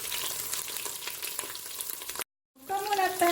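Pieces of rabbit brown in a Cookeo multicooker with a steady, close crackling sizzle, broken by a brief silent gap before the frying resumes.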